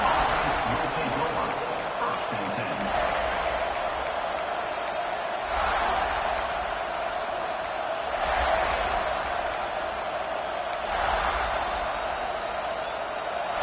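Crowd at a college football game against Mississippi State, a broad steady roar filling the stadium with scattered cheers and claps, and an announcer talking over it.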